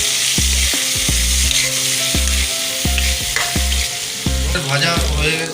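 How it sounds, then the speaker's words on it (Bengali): Onions frying in oil in a pan with a little salt, a steady loud sizzle carrying on throughout, broken by a regular series of sharp knocks from a utensil striking the pan as they are stirred. "পেঁয়াজটা ভাজা হয়ে গেছে আমাদের।"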